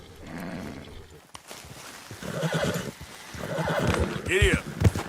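A video-game horse gives a loud, close whinny near the end, with soft hoof clops and rustling earlier, while people talk over it.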